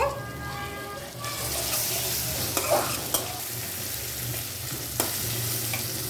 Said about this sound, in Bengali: এখন আমি আদা আর রসুন অ্যাড করলাম এটাকে ভাজা ভাজা করব